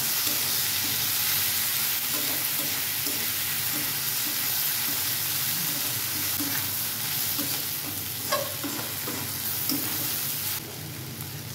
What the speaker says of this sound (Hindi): डाल देंगे हम एक टमाटर, चलाएंगे सब को भूनेंगे अच्छा से।